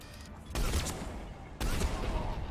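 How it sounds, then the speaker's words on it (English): Gunfire in Mass Effect 3 Legendary Edition, two loud heavy bursts about a second apart, each a sharp onset followed by a rumbling decay, fired close by with no talk over it. "That guy really thought I wasn't gonna shoot him"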